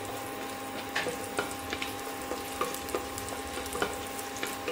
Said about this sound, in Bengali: রসুনটা একটু হালকা করে ভেজে নেব।